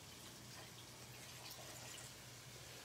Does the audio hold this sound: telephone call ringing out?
no